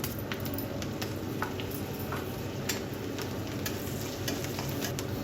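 Cumin seeds and finely chopped green chilies sizzle steadily in melted butter in a pan, a continuous close crackle with occasional stirring clicks throughout.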